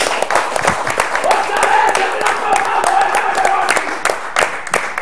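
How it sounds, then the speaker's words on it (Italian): A crowd claps steadily for several seconds while a voice speaks over the applause. "un applauso a Vito Legari."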